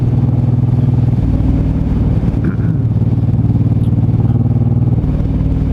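A 2008 Suzuki M109R cruiser motorcycle runs with a deep, loud, close engine rumble, its tone shifting a couple of times as gears change.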